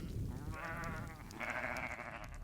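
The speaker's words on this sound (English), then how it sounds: "Sheep, more sheep and shears." Sheep in the Falkland Islands during shearing season bleat twice in quick succession, drawn-out wavering cries that sound fairly close against a low background murmur.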